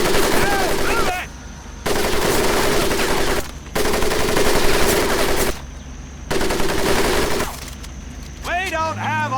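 Long, loud bursts of machine gun fire rake a mud pit during a Medal of Honor Pacific Assault training level, with four sustained volleys separated by short pauses and a voice speaking at the very end.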